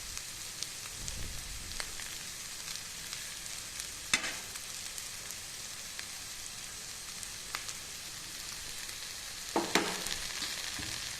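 Cauliflower pieces stir-fry with tomato sauce in a pan over high flame, a steady soft sizzle broken by occasional scraping and clinking stirs.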